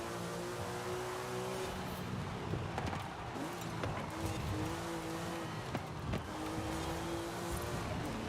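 In Forza Horizon 5, a race car engine drones steadily, rising in pitch with each gear and dropping at the shifts, with tire noise and brief clunks from the shifts.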